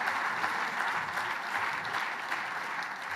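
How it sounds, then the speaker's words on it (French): A conference audience breaks into sustained applause, many hands clapping in a thick, continuous patter that stays level throughout, with no speech over it. "je veux entendre plein d'applaudissements pour ces gens"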